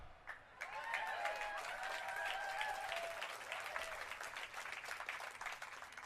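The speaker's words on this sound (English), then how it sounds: "That's where you guys keep clapping." Crowd applause at a Hollywood Walk of Fame ceremony for Sammy Hagar, sustained clapping from a large outdoor audience heard at a distance, fairly faint and steady for several seconds.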